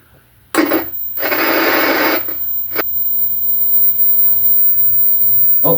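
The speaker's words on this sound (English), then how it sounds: "That was the static sound from the radio tuner" Radio tuner of a 1980 KMC television bursting into static: after a quiet moment, sudden loud hissy bursts cut in and out a few times, then settle into a steady low buzzing hum.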